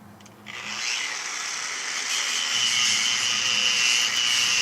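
A grinder with a 50 grit pad on a Velcro backing pad smooths granite around an undermount sink, starting up after a quiet moment and then holding a steady, close, high-pitched whine with a low rumble beneath.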